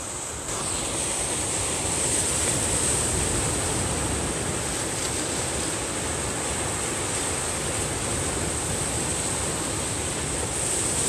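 Loud ocean surf at Sumiyoshi beach at night roars as a steady, dense wash of breaking waves close by, continuous and unbroken with some wind rumble, and no voices.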